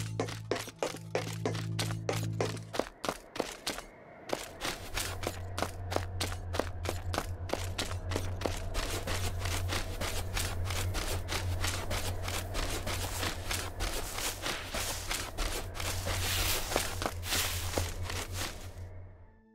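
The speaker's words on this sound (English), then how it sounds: "this is how our dynamic footsteps sound" Footsteps of a robot character in the Stack-O-Bot game, made with Wwise in Unreal Engine, changing with the surface underfoot; a long, steady run of crisp, closely spaced steps with some hard cracking impacts, set over a low droning background.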